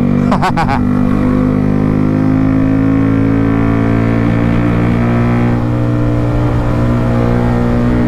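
A motorbike races two automatic scooters on a road, its engine droning loud and steady for several seconds with continuous road and wind noise and no talk over it.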